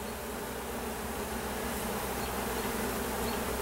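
Honey bees buzz in a thick, steady drone around an unmarked queen during a spring hive split, many insects humming together close by with no talking.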